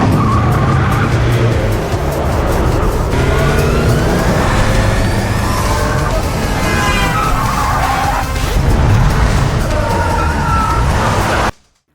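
A film car chase roars past with loud engines and repeated screeching tire skids, dense and continuous from start to finish, ending abruptly.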